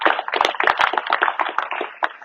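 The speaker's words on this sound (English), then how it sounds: "So give Martin a little round of applause" A small group claps for a speaker at a soccer coaching session: close, distinct individual hand claps in an uneven patter lasting about two seconds, then trailing off.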